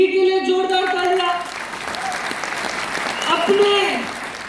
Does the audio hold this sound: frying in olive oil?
no